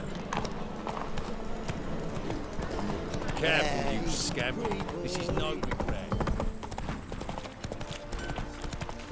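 Hooves of Geralt's horse Roach galloping in The Witcher 3, a continuous rapid clip-clop under game ambience while a character speaks over it.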